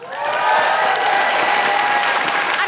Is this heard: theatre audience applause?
yes